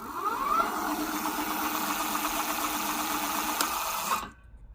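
An APEFOX RH20 throttle drives the hub motor of a lifted e-bike at full speed, around 53 km/h, producing a steady high-pitched whine with mechanical buzz for about four seconds before the sound cuts off abruptly.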